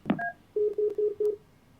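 A phone line on a call-in broadcast cuts off: a short click and tone, then four evenly spaced beeps of a disconnect signal, clear and close with no talk over them.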